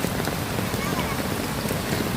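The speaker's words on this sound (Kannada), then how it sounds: "ಇಲ್ಲಿ ಶುರುವಾತಲ್ಲ ಮಳೆ" Rain starting to fall during the monsoon near waterfalls, a steady broadband patter and hiss with faint wind noise, continuous and fairly close.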